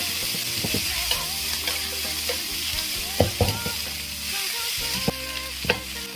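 Crown daisy stems are stir-fried in a wok with braised pork, scallion, ginger, garlic and dried chili. A steady close sizzle runs throughout, broken by sharp scraping clatters of the spatula against the wok.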